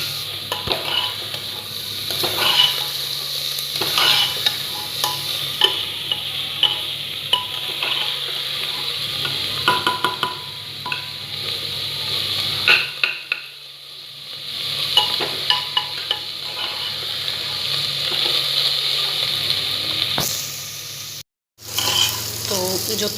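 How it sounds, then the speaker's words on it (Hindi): Onions fry over a medium flame in a pan for chicken curry, a steady sizzle with repeated scraping and clinking of a spoon as they are stirred, close and fairly loud. "प्याज को हमने ऐड कर लिया है। अब हम इसे काफ़ी अच्छे से मिक्स कर लेते हैं"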